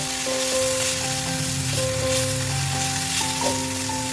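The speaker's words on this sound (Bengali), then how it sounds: "এখন এই বাটারটার মধ্যে সসেজগুলো ভেজে নেব।" Sausages frying in butter in a pan on a low flame, giving a steady, dense sizzle with soft crackles throughout, close and continuous with no talking.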